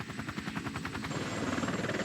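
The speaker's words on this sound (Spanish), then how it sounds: "Lo encontraron en una extraña máquina voladora que había hecho su debut a finales de la Segunda Guerra Mundial, el helicóptero" Helicopter rotor thumping steadily and evenly under engine noise, a continuous beating drone that holds at moderate loudness for the whole stretch.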